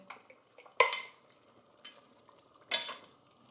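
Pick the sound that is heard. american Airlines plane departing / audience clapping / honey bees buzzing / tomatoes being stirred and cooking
tomatoes being stirred and cooking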